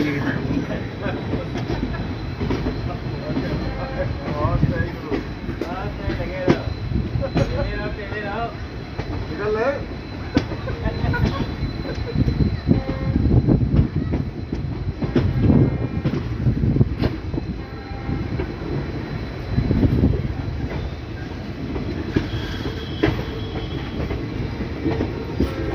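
A passenger train rumbles steadily along the Delhi–Lucknow main line on the outskirts of Bareilly Junction, with continuous rail noise, rhythmic wheel clatter and occasional metallic squeals heard from inside the carriage.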